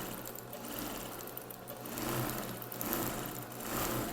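Sewing machine stitching fabric petals for a bathroom set, a steady close whirring hum with faint rhythmic needle ticking, continuous throughout and no voices.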